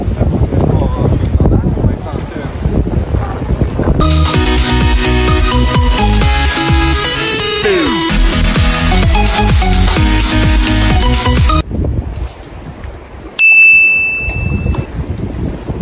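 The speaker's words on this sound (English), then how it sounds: "Here seems to be windy." Strong wind buffets the microphone outdoors by a fjord near Skjervsfossen waterfalls in Ullensvang, roaring in gusts throughout, with a loud tonal passage in the middle and a voice heard at times.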